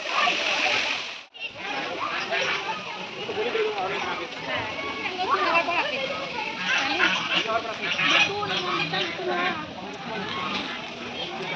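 Water falling and splashing continuously at a peaceful outdoor spot, a steady close wash of spray with voices talking over it.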